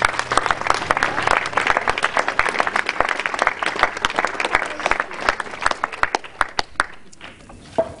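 Loud, sustained applause from a crowd, dense clapping throughout that thins out into scattered claps at the end.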